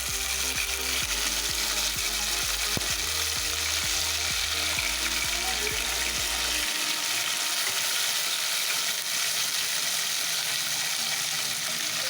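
Okra, vendakkai, frying in oil gives a constant sizzling hiss, with close clicking, stirring rattles in the first half that stop around the middle, leaving only the steady fry.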